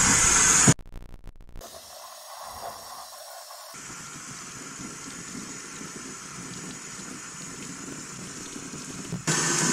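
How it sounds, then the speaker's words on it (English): Cold water rinses through a K&N air filter for a V Star 1300 motorcycle, a steady hissing gush of spray running for several seconds after a brief clatter, close and fairly quiet. "I'm going to rinse this from the clean side out with cold water."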